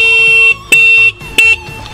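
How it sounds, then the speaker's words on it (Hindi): A sharp electronic horn from a Hero Electric Optima electric scooter sounds in short repeated bursts, loud and close, with brief pauses between blasts and no talking. "काफ़ी शार्प और काफ़ी अलग हॉर्न है।"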